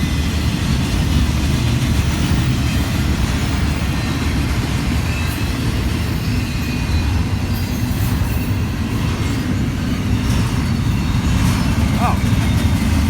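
A Union Pacific freight train of containers rolls steadily past close by in Benson, Arizona, giving a continuous loud rumble with clattering wheels and faint occasional squeals throughout.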